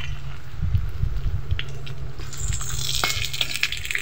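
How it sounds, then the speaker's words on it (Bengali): Corn fritters fry in hot soybean oil, a close steady bubbling sizzle with soft scraping and clinks as they are turned, the hiss brightening toward the end. "গরম তেলে এবার বড়াগুলোকে ভেজে নিতে হবে।"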